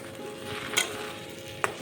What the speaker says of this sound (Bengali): ঢাকা খুলে একটু নেড়ে চেড়ে দিলাম।